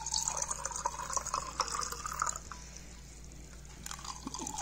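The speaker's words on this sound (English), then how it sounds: "pour water in it." Water poured into a glass of raw mango drink (aam panna) over ice, a close, light splashing and trickling pour that tapers off into quiet.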